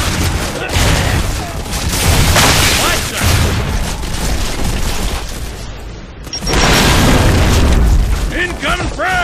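Frag grenade blasts in Gears of War 2 boom repeatedly amid gunfire, loud and heavy, with players shouting over the chaotic battle.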